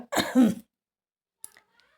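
A woman coughs in a short close burst at the start, followed by a faint brief sound and quiet, outdoors on an afternoon outing in cold weather.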